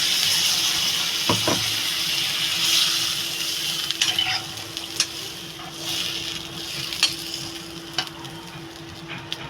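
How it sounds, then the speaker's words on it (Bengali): Water poured into a pan of raw chickpea curry on the stove, a steady hissing sizzle with a faint running-water wash and a few sharp ticks of utensil contact, close and continuous. "আমি এবার তরকারিতে জল ঢেলে দেবো এবার পরিমাণ মতো জল দিয়ে দেবো"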